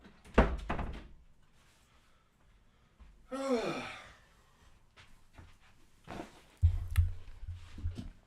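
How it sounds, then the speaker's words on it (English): A bedroom door pushed shut indoors, landing as one sharp thunk near the start, with later knocks and a whooshing burst of movement amid quiet gaps. "I've got to close fucking Connor's door"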